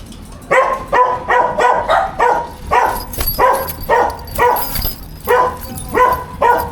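A dog barks loudly and close by, giving about nine sharp barks in a steady rhythm with short pauses between them.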